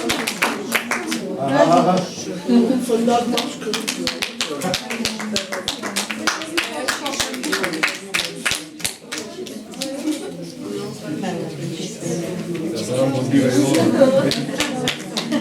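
Audience applause at a recitation contest award ceremony at a house of culture, a steady patter of clapping from a crowd that runs throughout while an announcer's voice reads out over it.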